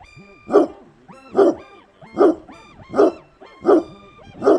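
A guard dog barks six times at an even, unhurried pace, each bark short and loud against near silence.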